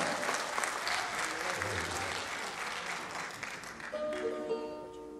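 Audience applause fills a concert hall after the introduction of a Peruvian charango master at a charity concert, a steady dense clapping throughout, with a hint of instrument tones emerging near the end.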